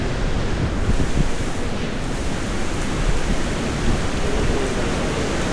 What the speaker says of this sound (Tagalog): Tuloy-tuloy ang hangin, tuloy-tuloy ang ulan.